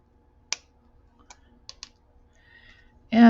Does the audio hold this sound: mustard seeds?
no